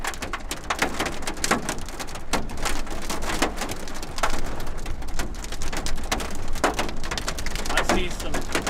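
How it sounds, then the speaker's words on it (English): Rain and small dime-sized hail pelt down during a storm chase in Northwest Texas, a dense steady patter with sharp individual hailstone clicks scattered throughout, loud and close, with occasional speech faintly underneath. "I see some dime-sized hail, maybe."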